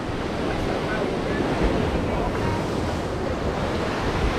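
Ocean surf rolls steadily onto Palomino beach on Colombia's Caribbean coast, a loud continuous wash of breaking waves mixed with wind buffeting the microphone, with no voices.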